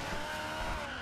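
Tyres squeal as a car spins out in the racing game Forza Horizon 2: a loud, sustained screech with steady engine roar beneath, filling the full second without a break.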